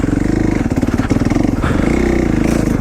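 A fuel-injected motocross bike engine runs loud and close on an off-road riding trail, a steady throbbing rumble with slight shifts in pitch as the throttle varies.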